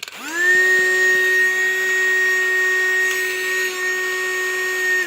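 A Mini Henry hoover vacuum cleaner runs steadily after switching on, a loud continuous motor whine with a high pitched tone held alone for about five seconds.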